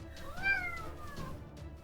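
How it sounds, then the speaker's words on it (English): A cat named Dash meows once, a rising then falling cry close by over a low background hum, with no talking. "yes, Dash, you are a cute cat."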